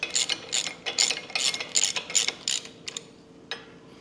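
A ratchet snugs down the bracket bolts during a RhinoHide tractor canopy install: about eight quick, close bursts of clicking in a steady rhythm, then a few isolated clicks that fade away.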